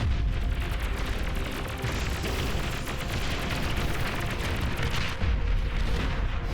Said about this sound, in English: Artillery tanks on the back line